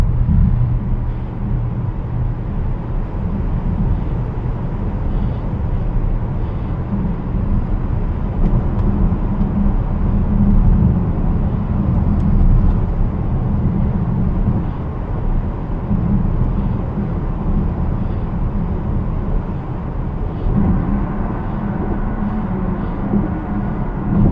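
Audi SQ6 e-Tron electric SUV rolling over a smooth road, heard from inside the cabin as a steady low road and tire rumble with a soft wind hush, continuous and even throughout.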